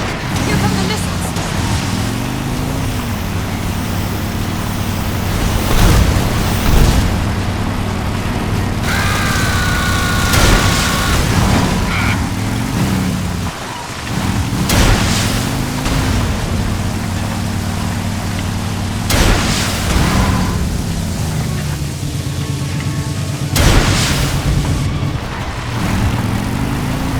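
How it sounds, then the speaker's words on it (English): Missiles crash and explode one after another in the stealth action game Metal Gear Solid Delta: Snake Eater, heavy booming blasts recurring every few seconds over a constant rumbling din, with voices talking throughout. "Here come the missiles!"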